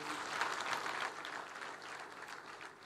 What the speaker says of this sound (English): can we give the Commissioner General another round of applause?